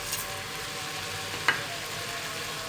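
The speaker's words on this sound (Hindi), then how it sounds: "अब हम इसमें अपने मसाला जार डालेंगे जो हमारे पास थे। साबुत गरम मसाला और साबुत ज़ीरा" Chicken sizzles steadily in a pan as whole garam masala and cumin seeds go in, a continuous close frying hiss with one brief clink midway.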